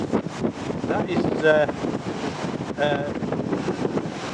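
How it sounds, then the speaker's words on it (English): Strong Storm Darragh wind blasting off the cliffs at Bempton near Bridlington, East Yorkshire, roaring and buffeting a nearby microphone in a steady, loud gale with a couple of brief whistling tones. "getting the full force of the wind, because it's coming off the cliffs"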